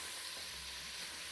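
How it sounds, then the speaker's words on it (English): Mince frying in a pan with onions, pepper, mixed herbs and salt, giving a steady, close hiss of sizzling with a constant low rumble underneath. "And now you keep frying this mince."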